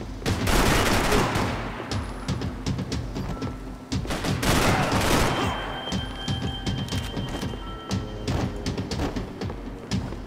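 Rapid automatic shotgun blasts from a Max Payne 3 firefight, loud and dense, in sustained bursts with heavy thumps and splintering impacts, briefly easing around the middle before picking up again.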